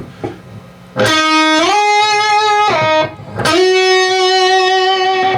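An electric guitar lick: picked notes that slide up the neck and end with vibrato, with two distinct phrases separated by a brief gap, close and clear.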